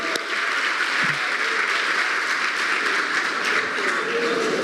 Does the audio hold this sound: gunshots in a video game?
no